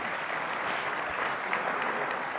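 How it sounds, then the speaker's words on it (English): An audience at a tech keynote event in New York City breaks into sustained applause, a dense, even wash of many hands clapping filling the room without speech. "give yourselves a round of applause for making it to the event tonight"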